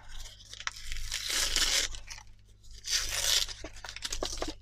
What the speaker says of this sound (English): tearing this throwaway piece from the back of my project rather than tearing my project from this